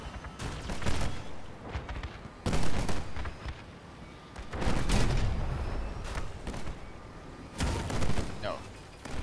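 Video game gunfire: bursts of loud shots arriving in clusters every couple of seconds, with a player speaking between them.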